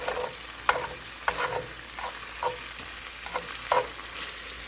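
Sausage, peppers and onions frying in a pan on a lower flame, a steady soft sizzle broken by several brief stirring scrapes, close and alone.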